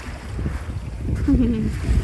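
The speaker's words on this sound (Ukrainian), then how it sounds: "дивіться, вітер десь зірвався" Wind gusting across a Baltic Sea beach by a dune, low rumbling buffeting with surf nearby, and a voice speaking briefly over it.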